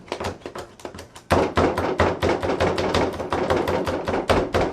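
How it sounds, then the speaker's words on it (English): A knife chops an onion on a cutting board with rapid, steady thunks. The strokes pick up pace after a brief pause, close and loud in a home kitchen. "And then I'm gonna go ahead and chop an onion."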